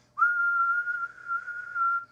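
A person whistles one steady, clear pitch that starts abruptly and holds for about two seconds with slight wavering in loudness, heard alone and close.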